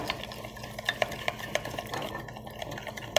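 A spoon scrapes and clinks against a pot while oil and powders are stirred over a double boiler, with small repeated metallic taps over a soft background hiss.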